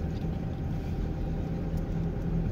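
Car driving on the Purbaleunyi toll road, a steady low engine and road rumble heard from inside the cabin, continuous and moderately loud with no talking.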